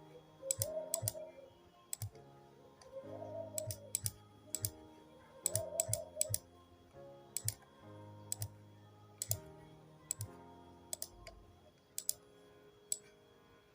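Clicks and taps on a phone while typing text into an Android poster design: irregular bursts of sharp, close keypress clicks over a soft, quiet musical background, no talking.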